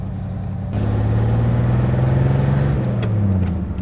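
Engine of a 1967 Chevrolet Impala running steadily and close by, a low rumbling tone that swells in at the start and holds for several seconds with a slight rise in pitch.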